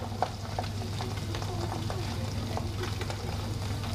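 Sea bass fillet seasoned with salt and white pepper frying skin-side down in a pan, giving a steady close sizzle with light clinks and stirring noises throughout.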